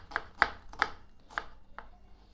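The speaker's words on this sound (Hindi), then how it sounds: "ये आपने प्याज काट लेना" Onion being chopped with a knife on a board, several crisp separate chops in an uneven rhythm, close and clear with no talk, for a homemade chicken pulao.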